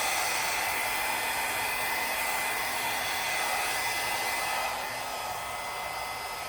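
Hair dryer blowing across poured acrylic paint on a Dutch pour canvas, a loud steady rushing hiss that runs the whole time and eases slightly near the end, with no talking.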